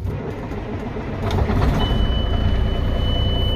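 An air brake releases with a steady loud hiss beside an idling engine, a faint high tone rising midway through.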